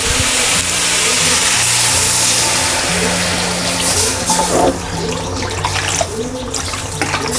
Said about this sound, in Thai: ให้เราเติมน้ำลงไปเลยค่ะ